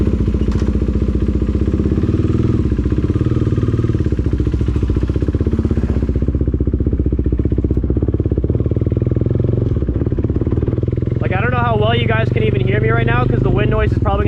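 KTM Duke 390 motorcycle engine while riding hard toward top speed, a loud, continuous buzzing roar that drops in pitch midway as the throttle eases, then rises again with clear rev changes through the gears.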